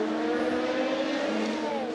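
A United Autosports endurance race car drives at speed, its engine note holding a steady loud drone with a slight rise in pitch, close and continuous with no voices.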